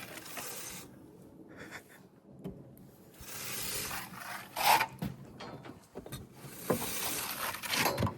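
A scraper scratches lines hard into a fresh scratch coat for stone veneer, giving repeated close, gritty rasping strokes in uneven bursts with brief pauses between them.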